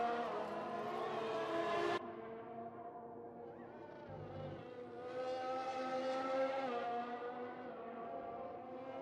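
A Formula 1 car in F1 2020 brakes hard into turn 10 at Bahrain: the loud engine whine cuts off abruptly, then quick downshifts rise and fall before the engine revs build again, heard alone without talk.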